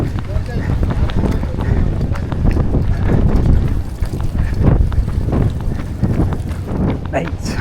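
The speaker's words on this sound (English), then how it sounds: "Mate, it's very windy." Strong wind roars during a stormy run along Hong Kong Harbour, a loud, steady low buffeting over the microphone with rhythmic footfalls and a voice speaking over it.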